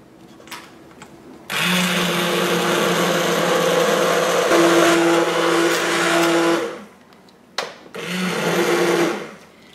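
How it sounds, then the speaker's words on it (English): Immersion blender pureeing broccoli cheddar soup in an Instant Pot, a loud steady motor whir running for about five seconds, a short pause and brief bursts, then another sustained run, with no talking. "when I'm using the immersion blender, don't bring it up out of the liquid"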